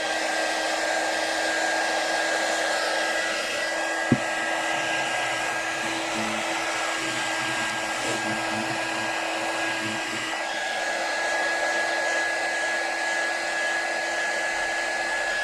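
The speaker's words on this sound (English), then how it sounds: "We'll help it along here with our little quick dryer." A small quick dryer, a handheld heat gun-style blower, running over a freshly inked silk screen print: a steady loud whirring hum with a high tonal whine and one brief click partway, no speech.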